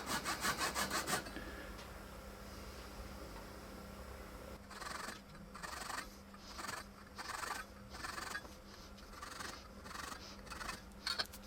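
A small hand saw cuts kerfs into the top surface of a Roland FD-8 pedal, with a quick burst of strokes, a pause, then a steady series of close rasping back-and-forth strokes.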